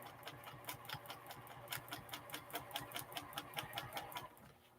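A home sewing machine doing slow free-motion and ruler quilting with back tacking along the lines, giving a faint, quick, steady run of ticking needle strokes in a small quiet room before stopping.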